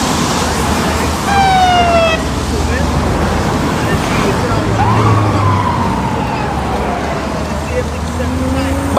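Emergency vehicle sirens wail past in heavy afternoon traffic on a road in Sierra Leone, rising and falling sweeps over a constant roar of traffic and wind, with voices talking underneath.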